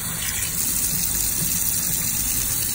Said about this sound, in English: We just want to rinse it off right now under the water.